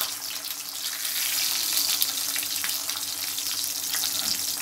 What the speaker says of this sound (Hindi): इस तरह से तवे पे जो अंडा फ्राई करते हैं